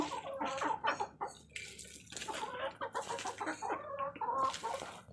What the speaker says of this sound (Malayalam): കോഴിക്ക് അരി ഇട്ട് കൊടുക്കുകയാണ്